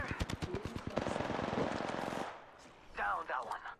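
Rapid automatic gunfire rattles in a ranked Apex Legends Season 9 match on Nintendo Switch, a loud close burst of about two seconds that cuts off before a voice speaks.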